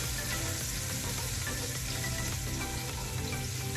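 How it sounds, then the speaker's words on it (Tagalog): Garlic and onion saute in hot oil in a pan, giving a dense, continuous sizzle that stays close and even throughout with no voices. "Pero ako, gigisa ko ngayon."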